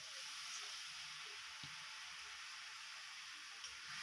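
Curry spices stir-fried in oil in a wok give a soft, steady sizzle and hiss, faint and even throughout with no talking.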